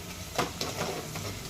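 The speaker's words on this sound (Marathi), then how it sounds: "लसूण खोबरं परतवत आलं बघू शकता तेल सुटायला लागलं" Ground garlic and coconut paste being sautéed in oil in a pan after onions, giving a soft steady sizzle with a few scraping stirs of a spoon.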